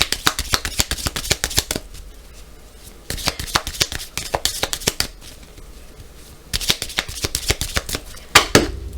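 Oracle cards are shuffled and cut in quick bursts of crisp riffling and slapping flicks, close and rhythmic, with short pauses between rounds and a sharper tap near the end.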